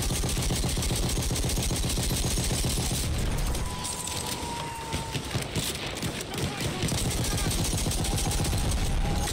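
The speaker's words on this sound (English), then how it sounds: "Machine gun, let's go!" Rapid machine gun fire in the Battlefield 1 battlefield, a dense continuous rattle of bursts under a wash of combat noise and distant shouting voices, loud and sustained throughout.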